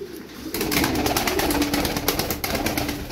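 Milk-white Turkish performing tumbler pigeons coo and flap their wings nearby, a burst of rapid wing beats and fluttering over soft cooing, with no talk.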